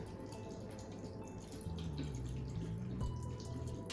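Liquid being poured into a container while mixing a Halloween candy corn martini, a steady faint trickle and light dripping that runs for several seconds with no talk over it.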